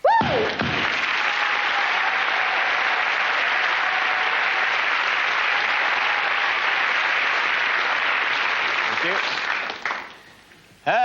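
A large studio audience applauds at a comedy show, a loud, dense wave of clapping with a few whistles that holds steady for about ten seconds before tailing off abruptly.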